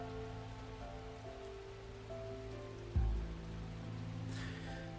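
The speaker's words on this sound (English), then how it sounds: "The rain continues to come down hard" Heavy rain pours steadily on surfaces in the video game Arknights, a dense even hiss that runs throughout, with a low thump near the middle and a brief brighter splash toward the end.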